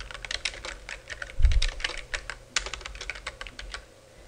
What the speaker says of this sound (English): So I'm going to type in a new title here